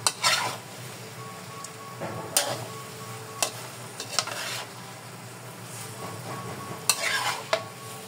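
Pork for Visayan-style humba is stirred in a frying pan, with a steady sizzle beneath sharp utensil scrapes and clinks against the pan recurring every second or two, close and fairly loud.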